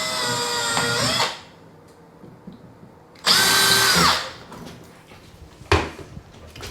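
A power drill bores holes into a bathroom wall to mount a light fixture bracket, with two loud, close bursts of about a second each, then a brief third spin, separated by quiet pauses.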